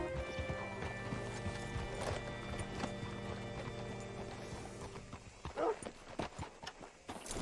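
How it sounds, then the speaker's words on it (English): Horse hooves clip-clop at an easy pace in a Red Dead Redemption 2 game scene, joined near the end by a short whinny and snorting, over a low background hum. "Hitch your horse up here."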